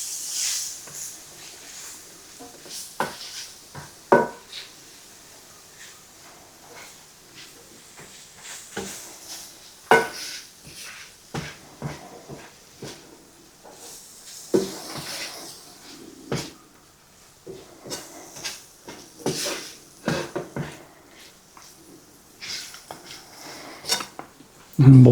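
Taco seasoning mix stirred into rice in a pot: repeated scraping and clinking of a utensil against the pot in irregular bursts, with occasional clunks and brief speech.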